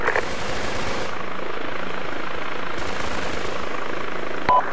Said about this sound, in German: Patrick, ist das der bewaffnete Helikopter?